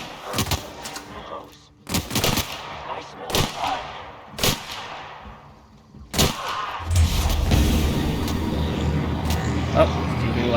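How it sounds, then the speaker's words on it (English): Gunfire in the video game The Outer Worlds, a series of sharp separated shots with ringing tails, followed by a denser low rumble of game sound, while a person talks over it. "I'm just gonna shoot it"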